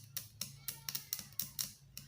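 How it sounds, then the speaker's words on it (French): Metal tool scraping the keypad ports on the circuit board of an Itel 2160 phone, heard as about eight short, sharp scratches in an irregular rhythm, close and fairly quiet against a low steady hum. "Donc il faut gratter ces deux ports qui sortent sur le clavier."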